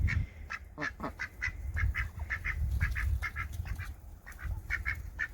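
Close, busy quacking from a small backyard flock of runner ducks, including a black drake, with repeated short honking calls in uneven bursts over low outdoor rumble.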